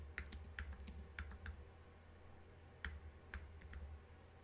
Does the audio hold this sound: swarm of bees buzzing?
no